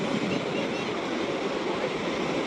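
Sea surf at Vagator Beach in North Goa, heard from the hill above, makes a steady broadband roar with no distinct breaks, mixed with some wind.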